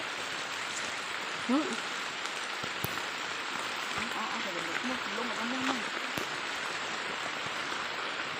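Steady rain hisses throughout at an even level, with a person speaking faintly and intermittently beneath it.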